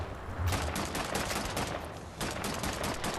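Rapid automatic bursts from an STG-46 assault rifle in the Wolfenstein video game, two dense strings of shots separated by a brief pause, loud and close.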